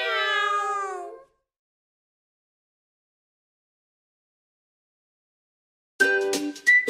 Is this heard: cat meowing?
yes